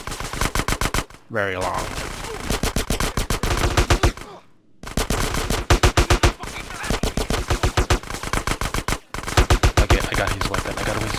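Rapid automatic gunfire in long bursts as in-game actors shoot each other in GTA San Andreas, loud and close with brief pauses between volleys; someone speaks briefly over it.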